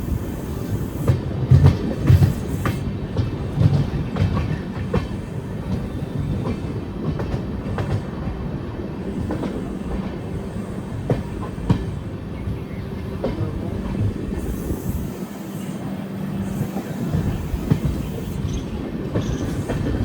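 The Kasganj-Aishbagh special train rolls along the rails on its inaugural run out of Ujhani, a steady heavy rumble from inside the carriage with rhythmic clickety-clack of wheels over rail joints.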